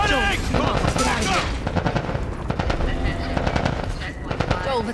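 Rapid automatic gunfire in The Last of Us Part 1, fired at Fireflies, comes as dense crackling bursts across the clip, mixed with shouting voices and tense game sound.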